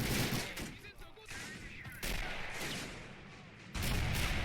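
A mortar shell strikes during a video game beach assault styled on a D-Day landing, with dull booming impacts and scattered gunfire among battle noise at moderate loudness.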